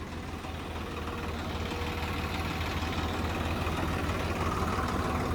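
A steady, low tractor engine idle rumbles throughout, even and unbroken, running in place close by.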